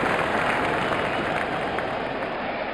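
Stadium crowd applauding in a cricket video game, a dense, steady wash of clapping and crowd noise that stays loud and even throughout, with no talk over it.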